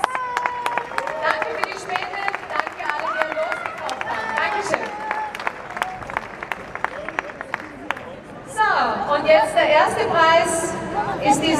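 Scattered hand claps from a crowd at a solidarity rally in Graz ring out amid chatter and nearby voices, with the talking growing louder toward the end.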